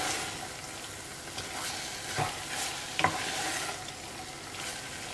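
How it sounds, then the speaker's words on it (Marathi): Masala for a Goan prawn and green mango curry sizzles steadily as it is roasted in a pan over medium flame, with a few soft scraping stirs of a spoon rising above the frying hiss, close and moderately quiet. "आतां मसाला आमी एटलीस्ट फॉर 1 मिनिट बरो भाजया."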